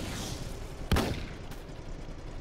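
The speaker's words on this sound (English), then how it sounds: "We're just playing around with artillery right now" One sharp, punchy blast rings out from Roblox Armored Patrol artillery, followed by a brief decaying rumble and a fainter shot over continuous muffled battlefield noise.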